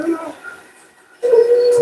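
A German Shepherd being groomed lets out short whines, then a sustained, fairly loud howling whine, close to the listener in a grooming room.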